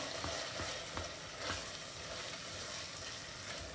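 Masala for a spicy prawn biryani fries in a pan while being stirred, a dense, even sizzle with faint stirring scrapes throughout, quiet overall and free of voices.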